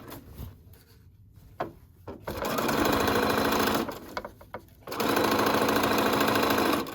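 A home sewing machine stitches the seam of a wrap dress in two loud, close, steady runs of rapid mechanical whirring, separated by a brief pause with quieter handling noises.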